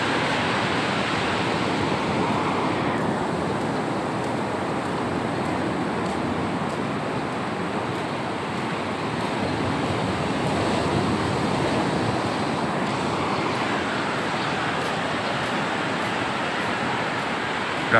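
Heavy sea surf churns during Typhoon Odette in Silago, a loud, continuous roar of pounding waves mixed with strong wind, steady throughout with no speech.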